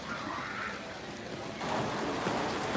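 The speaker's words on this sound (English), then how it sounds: "I just love how much water that they have here in this park. It sounds so nice." Water pours and splashes steadily off a turning water wheel in an amusement park, a continuous close rushing wash that swells slightly louder toward the end.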